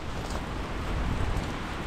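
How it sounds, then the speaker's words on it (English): Heavy rain pours steadily on a central London street during a daytime courier shift, a dense continuous hiss with low rumble throughout, no voices. "it started raining quite a lot"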